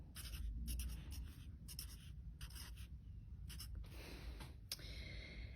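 Handwriting on paper, close and quiet, made of short scratchy pen strokes in irregular bursts with brief pauses between words.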